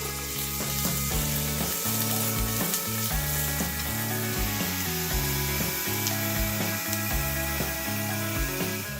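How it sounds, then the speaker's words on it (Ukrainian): Chopped onion sizzles steadily in melted ghee in a frying pan, with a continuous crackling hiss broken by repeated rhythmic scraping and stirring strokes of a utensil against the pan. "Висипаю цибулю і обсмажую до золотавого кольору."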